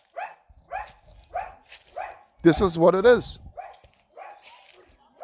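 A dog barks in a steady run of short, evenly spaced barks, moderately distant, that continue over and around someone talking nearby.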